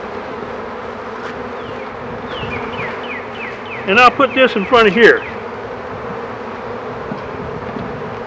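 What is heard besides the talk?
honeybees buzzing around an opened beehive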